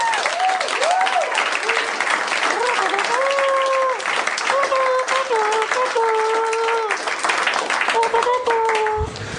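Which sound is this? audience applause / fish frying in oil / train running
audience applause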